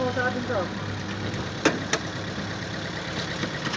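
A Toyota Vios engine idles with a misfire, a low uneven running note carrying a couple of sharp knocks, heard up close in a workshop with someone talking over it.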